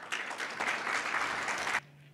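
An audience at a conference on digital inclusion claps for a presenter, a steady, full burst of applause lasting under two seconds before cutting off abruptly into quiet.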